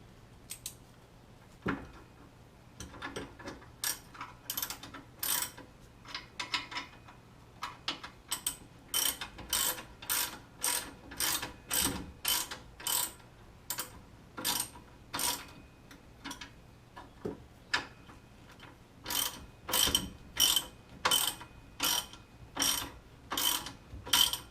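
A ratchet clicks in quick, repeated bursts while bolting a Jeep 8.8 axle into place during a swap, the sharp pawl ticks coming in steady rhythmic runs with brief pauses between strokes, close and clear with no talking.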